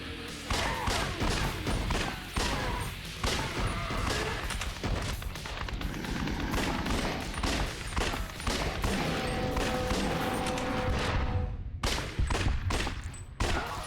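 Rapid bursts of gunfire crack out nearly nonstop while shooting at targets in the video game Judgment, dense and loud, with a steady layered background of game sound and a brief lull near the end.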